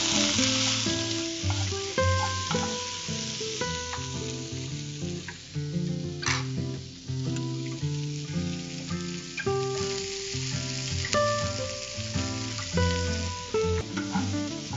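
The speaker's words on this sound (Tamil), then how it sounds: "கொஞ்சம் உருளைக்கிழங்கு ரோஸ்ட் ஆடுது" Potatoes roast in a pan with spice powders, giving a steady close sizzle and frying crackle with occasional stirring scrapes throughout.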